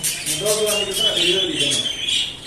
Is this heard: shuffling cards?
no